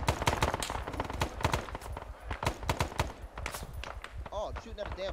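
Rapid gunfire in a combat video game set in the battle for Hue City, dense bursts of sharp shots with a voice speaking over them toward the end.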